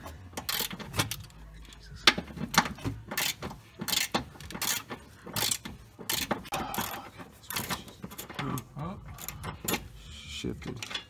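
Ratchet wrench working loose the crossmember bolts during a 1JZ engine swap into a Nissan 350Z, a series of quick clicking bursts close by in a garage, with people talking intermittently.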